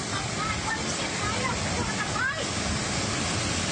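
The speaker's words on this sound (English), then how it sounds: "Never seen a river on our street." Floodwater from Hurricane Ian rushes down a residential street in Florida, a loud, steady, close roar of flowing water that lasts the whole stretch, with a brief voice heard faintly over it.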